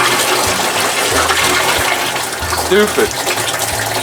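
Water gushes loudly and continuously out of a test tank for a 55 hp Evinrude outboard motor, a broad rushing wash with a brief spoken word over it.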